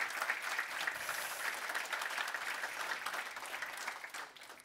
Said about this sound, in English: A round of applause for Amandeep.